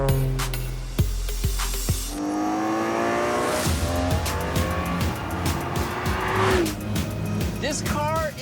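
A loud car engine revs and roars, rising and falling in pitch, with tires squealing near the end and a person talking over it.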